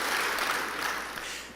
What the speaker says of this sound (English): Give the government a clap.